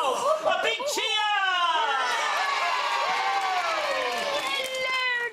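A studio audience of children in a kids' TV comedy show cheers loudly and steadily, with shrill shouts and whoops held throughout at close range.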